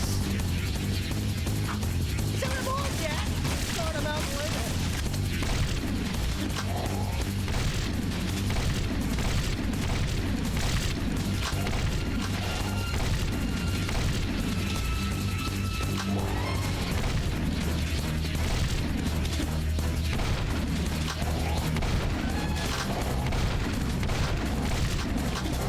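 Scatter weapon in Jak II firing rebounding shots amid a dense, continuous din of booms, crashes and bursts of gunfire, loud and unbroken throughout with game music underneath.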